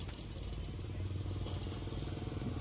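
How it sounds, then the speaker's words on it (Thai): A Komatsu PC70-7 excavator's 4-cylinder diesel engine runs close by with a loud, steady clattering rumble and a rattling pulse throughout. "เดี๋ยวเปิดเครื่องยนต์ให้ดูครับ เครื่องยนต์4สูบ"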